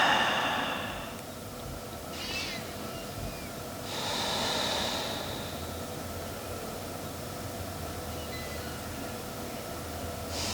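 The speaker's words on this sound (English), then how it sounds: "Take a few breaths." Slow audible breaths during a yoga session on a rainy day, a few soft exhales standing out over a steady background hiss.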